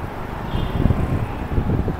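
Strong outdoor wind buffets the microphone in a parking area, producing a loud, gusty low rumble that surges and eases without a break, and no one speaks.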